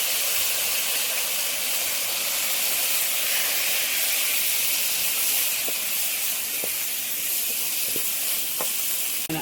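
Potato hits a hot pot and sizzles as Trinidad channa and aloo is cooked, a steady close hiss of frying with a few faint clicks and no talking.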